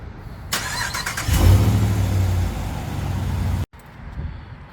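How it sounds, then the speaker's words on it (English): A truck engine cranks and catches, then settles into a steady, fairly loud idle that runs for a few seconds before cutting off abruptly. "I think if I just start the truck, we'll get running lights."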